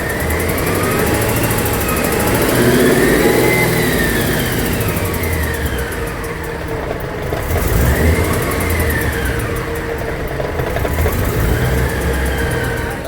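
A car engine revs under light throttle after new clutch, headers and header studs were fitted, a steady mid-pitched drone swelling and easing in long rises, close and loud, with no talk.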